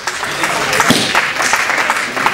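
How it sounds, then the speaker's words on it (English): Guests at a marriage blessing ceremony give loud, sustained applause, with dense overlapping claps and a few thumps over a couple of seconds. "Please have a hand of applause for him"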